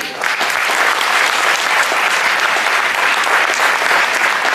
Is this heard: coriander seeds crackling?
no